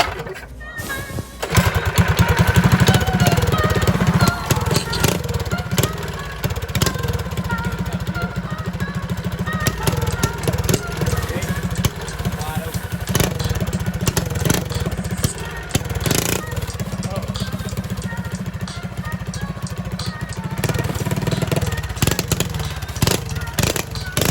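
A Coleman BT200X mini bike with a Predator 212 Hemi engine runs loud and close, its rough rapid chugging steady throughout with a few blips of revving, and no talk over it.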